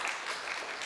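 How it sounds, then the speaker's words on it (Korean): Lecture audience applause, a brief dense burst of clapping at moderate distance, heard alone with no talking. "동의하시면 박수 한번 주십시오"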